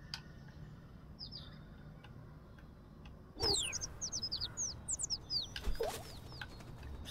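A bird lands in water in the video game Little Kitty, Big City, with a splashy flutter of wings followed by a run of bright chirps and tweets close by over a soft ambient bed.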